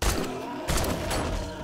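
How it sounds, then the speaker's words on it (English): Gunfire in the survival game 7 Days to Die: two loud, booming shots about half a second apart, each with a short rumbling tail. "let's just shoot him with the gun"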